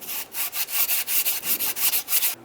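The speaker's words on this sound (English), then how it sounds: "To clean these up, it's best to use a sanding block so you can make this as level as possible." A sanding block scrubs the exhaust port surfaces of a Dodge engine in quick rhythmic back-and-forth strokes, about a dozen close, gritty rasps in under three seconds, with no voices.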